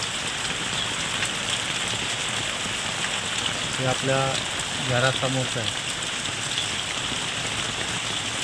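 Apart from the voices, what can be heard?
heavy monsoon rain in front of house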